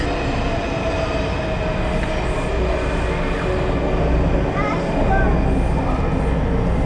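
Washington DC metro train rumbling steadily through the Smithsonian station area, with a brief wheel squeal near the end and faint voices in the background.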